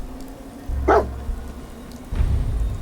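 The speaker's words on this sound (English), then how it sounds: "I think it's a yellow lab." A yellow Labrador in the video game Fallout 4 gives a short bark, then a second deeper woof after a pause, heard fairly close over quiet game ambience.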